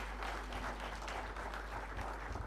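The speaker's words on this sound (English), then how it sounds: "Please clap for them" Steady audience applause fills a public dialogue hall at a medical school centenary celebration, a dense continuous patter of many hands at an even, moderate level with a low hum beneath.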